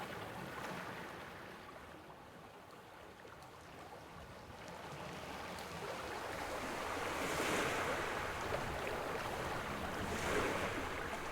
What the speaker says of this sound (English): The river plays a bit louder here because you're very close to the water